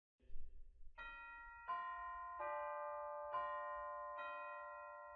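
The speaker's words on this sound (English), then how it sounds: "this organ has a wonderfully sampled set of chimes in the Great Division" Sampled chimes from the Great Division of a church organ ring out five separate bell-like strikes, each note sustaining and overlapping the last, clear and close with no voices.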